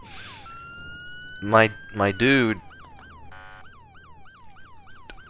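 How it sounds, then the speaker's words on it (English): Police-style vehicle siren in the Roblox game ER:LC, a repeating wailing yelp with a short burst of electronic tone in the middle, with a voice speaking briefly over it. "Please turn off your siren."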